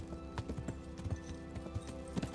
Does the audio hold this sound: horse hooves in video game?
yes